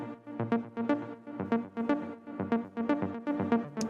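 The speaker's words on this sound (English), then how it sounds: "the cool thing about this ARP is I didn't even make it into an ARP" Arpeggiated Sylenth synth line on a deep house production, evenly spaced bright plucked notes repeating in a steady rhythm over a low sustained tone, close and clear with no voices.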